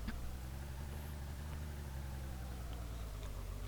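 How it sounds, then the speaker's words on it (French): A car in the DayZ video game, heard as a steady, low engine rumble that idles and hums without letup, fairly close and alone with no voices. "Attention, une voiture va venir, poussez-vous."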